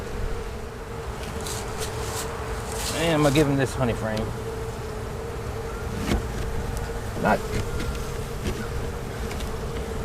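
Honey bees drone steadily around hive frames during queen grafting, a continuous buzz beneath someone talking close by.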